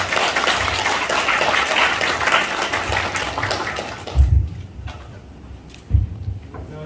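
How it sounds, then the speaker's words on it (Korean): Applause of thanks at a Korean memorial and reconciliation event for bereaved families. A broad, steady roar of clapping fills the room, then cuts off sharply midway, leaving faint thumps and near-silence. "그간의 시간에 대한 감사의 박수로 좀 마무리를 하면 좋겠다는"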